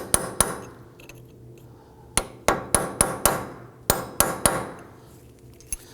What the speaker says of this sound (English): we're going to put our little punch in the middle here and tap that up